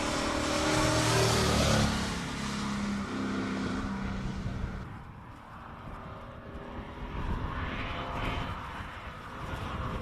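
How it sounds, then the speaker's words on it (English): A Nissan Skyline GTR R33 race car at a Cape Town hill climb, its engine roaring loud and close for about two seconds, then dropping to a steadier, more distant drone with no talk over it. "Nissan Skyline GTR R33 on the line."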